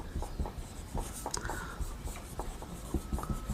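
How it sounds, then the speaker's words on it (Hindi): Pen scratching on paper in quick, uneven strokes, close and clear, with occasional taps as words are written out. "अब यहाँ पर जगह थोड़ी कम है इसलिए मैं आपको बता के लिख रहा हूँ"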